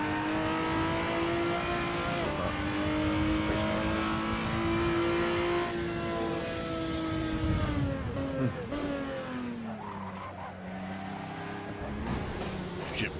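A car engine drones steadily in the racing game Assetto Corsa, its pitch holding and then sliding down through gear-like shifts before climbing again, fairly close and continuous.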